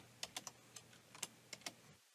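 A computer keyboard tapped in quick bursts while entering shortcuts, with about ten crisp, close keystrokes in uneven clusters and a nearly silent background that cuts off at the end.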